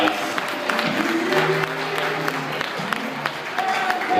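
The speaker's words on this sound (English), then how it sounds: "how about a great big round of applause for Mayor and Christine and our best man Steve on those wonderful, heartfelt toasts" Wedding guests at a reception at the Stonehouse applaud after the best man's and couple's toasts: a steady, close round of clapping with voices and cheers mixed in throughout.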